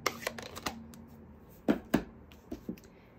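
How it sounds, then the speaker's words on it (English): A rubber stamp is inked and pressed onto the corner of an envelope, giving a scatter of soft dabbing taps followed by several firmer, close thumps against the paper. "I just need to stamp up a little bit of the corner"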